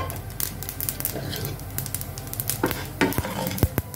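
Chana dal and urad dal dropped into hot oil with mustard seeds, crackling and sizzling up close with a few spoon scrapes in the pan and faint voices in the background.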